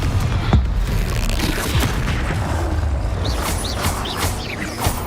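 A Confringo explosion spell in Hogwarts Legacy sets off a sustained rumbling boom amid dense, noisy combat effects, with faint chirping sweeps near the end.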